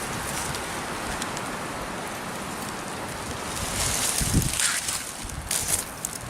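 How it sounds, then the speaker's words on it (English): Wind blows outdoors on a backpacking trip, a steady rushing roar with heavier gusts and buffeting thumps toward the end, close to the microphone. "Watch that wind."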